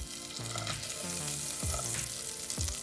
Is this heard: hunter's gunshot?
no